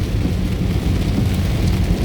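Rain beats hard and steadily on the road between Cumilla and Dhaka, a brief, loud wash of noise with a heavy low rumble and no talking.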